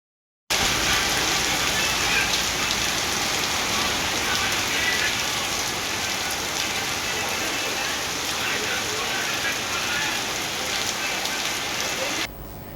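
Steady rain pours down, a dense, even wash of drops on surfaces that holds at constant loudness from start to finish, close and enveloping, with a faint engine-like hum beneath.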